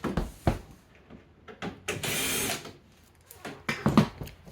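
Screws come out of the cover of a noisy Samsung dryer, with short whirring bursts from a screwdriver, a longer buzzing run in the middle, and scattered clanks and taps against the metal panel.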